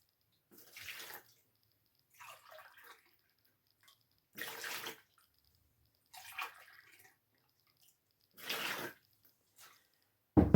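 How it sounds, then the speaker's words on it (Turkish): Warm water splashes into a bowl for pide dough in five separate short pours spaced a couple of seconds apart, close and moderately loud, with near silence between them. "3 su bardağı ılık su."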